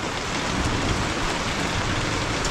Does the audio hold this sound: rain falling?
yes